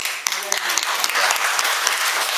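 A seminar audience breaks into a steady round of applause, dense clapping with a few sharper individual claps standing out, and a brief voice near the start.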